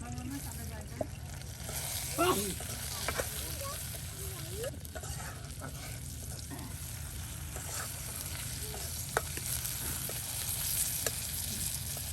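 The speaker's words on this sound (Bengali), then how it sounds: "একদম মরিচ পেঁয়াজ রসুন কত সুন্দর করে একদম ভেজে নেওয়া হলো।" Chilies, onion and garlic fry in a pan with a steady, soft sizzle, punctuated by occasional stirring scrapes and faint clinks, with distant voices in the background.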